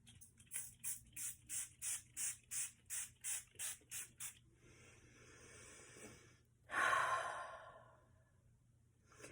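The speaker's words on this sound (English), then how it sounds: "I'm going to use the Helena Elaine Nourishing Rose and Frankincense facial mist" Bursts of a Helena Elaine rose and frankincense facial mist sprayer, about a dozen quick, soft, evenly spaced puffs, then a pause and one longer, louder spritz, close up in a quiet room.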